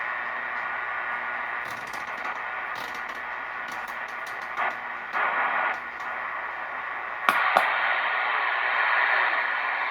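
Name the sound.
CB radio static on channel 38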